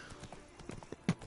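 Faint hooves clip-clop at a walking pace in The Witcher 3, soft and distant, ending in one slightly louder hoof strike.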